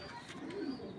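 A single club racing pigeon gives one brief, soft, low coo close up in a quiet room.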